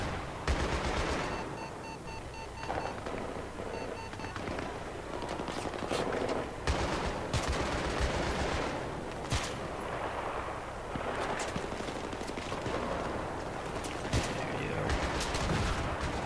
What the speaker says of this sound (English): Six, taking heavy fire, do you copy?